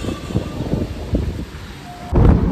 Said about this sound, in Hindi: बहुत ज़्यादा तेज हवा चल रही है